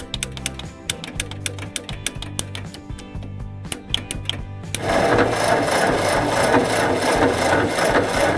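A Ford 8N tractor engine cranks slowly on its starter, a steady rhythmic chugging of evenly spaced pulses that is plainly too sluggish, followed by a denser, louder mechanical churn continuing close to the microphone.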